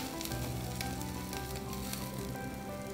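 Loud, dense sizzling and crackling of beef ribs searing on a hot grill, steady throughout with sharp spitting pops and no talking.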